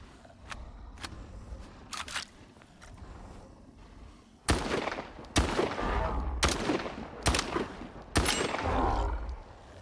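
SPAS-14 shotgun blasts in the shooter game S.T.A.L.K.E.R. 2 during a fight with mutants: a few lighter pops at first, then five or six heavy booming shots at roughly one-second intervals with rumbling tails, close and loud.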